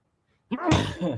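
A single sneeze after a moment of silence, a short sharp burst with a breathy tail, close by.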